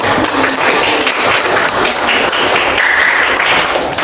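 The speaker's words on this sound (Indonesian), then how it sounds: "tepuk tangan buat Sapitri" Classmates applaud a student during a class on Indonesian democracy and the national movement, a loud, dense, steady burst of clapping close by.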